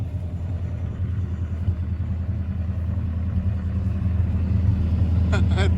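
A 1966 Dodge Coronet engine, restarted after more than twenty years and leaking and smoking, idles in a steady low rumble close by, unbroken throughout with a slight swell near the end.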